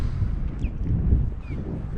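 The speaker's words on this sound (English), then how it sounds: "The wind is getting really bad." Strong beach wind buffeting the microphone during inshore kayak fishing, a loud low rumbling roar that continues steadily throughout.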